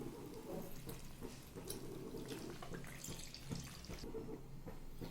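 Milk poured into a pan for palada payasam, a thin, steady liquid trickle with faint splashing that carries on for several seconds at a quiet level, with no voices.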